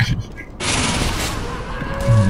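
Gunfire in the video game Team Fortress 2, a sudden loud burst of shots cutting in after a brief quiet moment, followed by a sustained crackling barrage.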